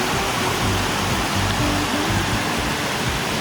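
Rushing Himalayan forest waterfall roaring loud and close, a dense, steady wash of falling water with no other sounds.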